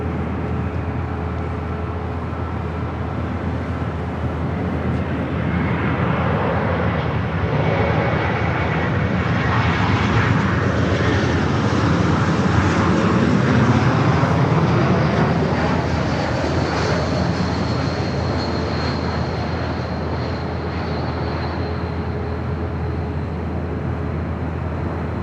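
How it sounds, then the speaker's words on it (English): An Air Canada Airbus A320 arriving from Vancouver roars in over the north side at LAX, its jet engines swelling to a loud peak midway and then easing off as it passes. "Next arrival here on the north side, Air Canada Flight 554, giving it from Vancouver, an Airbus A320 300."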